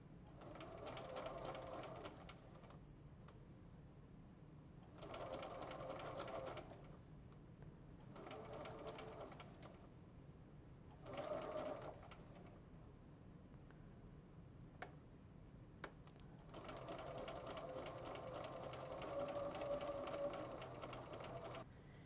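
A sewing machine stitches a curved seam in a Double Wedding Ring quilt block, running in five steady bursts of fast mechanical whirring separated by short pauses, close and clear with no voices.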